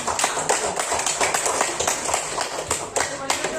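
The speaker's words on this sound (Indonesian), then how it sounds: "Tepuk tangan dulu untuk Pebi dan" Children in a primary school classroom clap their hands together in a quick, dense burst of applause that carries on steadily throughout, close and fairly loud.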